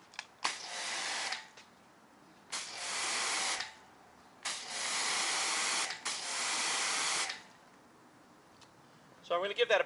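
Kranzle 1322 pressure washer spraying car rims: four loud, steady hissing bursts of a few seconds each with short pauses between, close by, with a brief voice at the very end.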